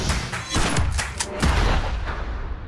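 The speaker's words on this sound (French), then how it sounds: "ça tire de partout" Gunfire from a French film trailer: dense bursts of shots and thuds fill the clip, loud and close, with rapid overlapping reports.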